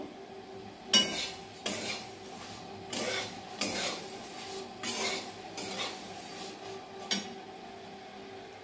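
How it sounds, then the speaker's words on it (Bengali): Flattened rice (chira) fried in a pan in a home kitchen gives a steady low sizzle broken by repeated scraping and stirring strokes of a utensil against the metal, about one every second, close by with no talk. "আর এইদিকে আমি চিড়ে ভাজছি, একটু চায়ের সাথে খাবো।"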